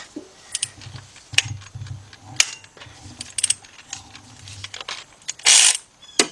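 A ratchet works loose a bolt torqued to 45 foot-pounds on an engine during a timing chain job, giving sharp metallic clicks and clacks in uneven bursts, close up, with a brief louder rattle near the end.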